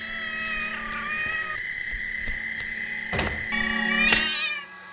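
A cat meows repeatedly in an alley, the cries rising and wavering over a steady background hum, with a longer, louder yowl near the end.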